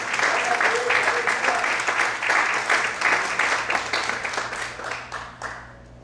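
Church congregation applauding steadily during a morning service, a dense wash of many hands clapping with some voices and cheers mixed in, fading out at the end.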